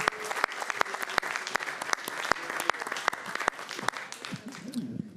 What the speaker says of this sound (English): if we could all give a round of applause to the library